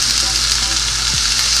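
Chunky medium-heat salsa sizzles steadily in a hot pan, a dense constant hiss with soft crackle at close range, briefly with no talk.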